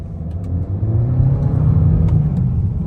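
A brand-new 2022 Honda Accord Sport 1.5-litre turbo engine revs up and rumbles, growing louder and holding at a heavy, close drone for a few seconds.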